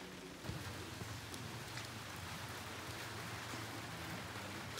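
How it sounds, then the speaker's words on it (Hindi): Steady rain falls outdoors in Tripura, Northeast India, near the Bangladesh border, making a continuous soft hiss with a few scattered drops and no voices. "अभी यहाँ पे बारिश तो रुक नहीं रही"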